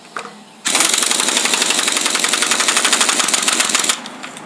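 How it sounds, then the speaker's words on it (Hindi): A pneumatic air impact gun tightens the big nut on a Hero Super Splendor motorcycle engine during assembly, a loud, continuous rapid hammering rattle lasting about three seconds, close up, preceded by a quiet pause. "एयर गन से टाइट कर लेता हूँ।"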